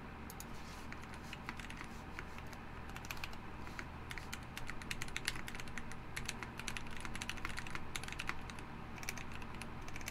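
Fast, steady typing on a $1,300 titanium-cased mechanical keyboard, the Tiamo, with a dense run of close, crisp key clacks over a low background hum, no voices.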